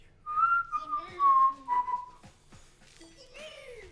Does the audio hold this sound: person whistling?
yes